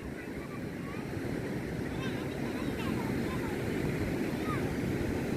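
Steady rushing surf and wind noise on the open shore of Kihim beach near Alibag, a continuous wash of waves with someone talking over it.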